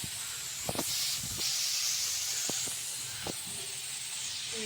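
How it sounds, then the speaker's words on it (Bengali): A bowl of water goes into a hot pot while cooking a sour dish, giving a loud, broad steam hiss that holds steady for several seconds. A few clinks and knocks sound over it. "এবার এর সাথে 1 বাটি জল দিয়ে দিলাম।"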